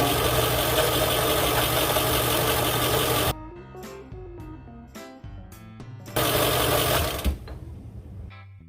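A line-spooling machine winds 200lb hollow core braid onto a large Everol 20/0 fishing reel, making a loud, steady mechanical whirr that cuts out abruptly partway through, leaving quieter clicks and handling noises, then returns briefly before stopping.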